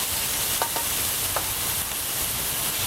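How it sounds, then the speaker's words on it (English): Food sizzling on a backyard barbecue grill, a steady, loud hiss of frying with a few soft clicks from handling the food, close by and with no talking. "I'm going to put these back on the grill."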